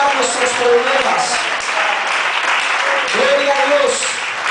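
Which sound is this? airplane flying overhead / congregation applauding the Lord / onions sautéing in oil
congregation applauding the Lord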